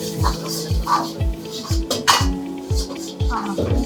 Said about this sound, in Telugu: ఆనియన్ నేను కొంచెం తిప్పుతాను